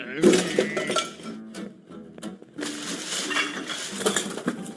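Clanking metal pan and scattered clinks as a pan is picked up in the video game Bum Simulator, heard close and mixed with game ambience while someone talks over it.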